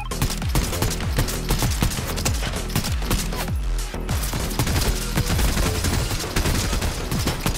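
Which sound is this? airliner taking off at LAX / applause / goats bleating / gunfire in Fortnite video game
gunfire in Fortnite video game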